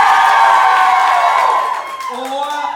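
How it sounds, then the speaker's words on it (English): A loud theater audience cheers and claps to vote at a live comedy show, a dense burst of whoops and applause that fades toward the end as a voice comes in. "vote for your favorite loud and with applause"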